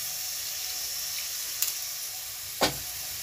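Water goes into a hot cooking pan holding coriander and turmeric powder before cabbage is added. A steady sizzling hiss runs throughout, broken by two short, sharp splashing bursts near the end.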